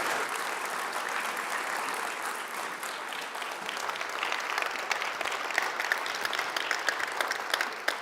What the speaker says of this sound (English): please give a big birthday round of applause to Victoria Collins